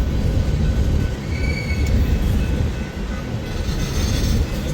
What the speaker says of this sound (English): Empty unit train of soy.